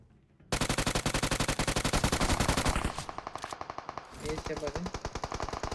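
Rapid automatic gunfire in PUBG Mobile, a dense burst of loud, close shots that runs for a few seconds, then continues more loosely with short gaps and a lighter, more distant rattle, with a voice talking faintly underneath.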